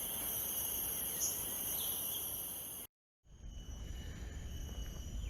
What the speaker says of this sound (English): There's also crickets chirping in the background.